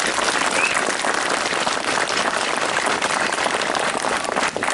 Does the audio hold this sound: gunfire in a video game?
no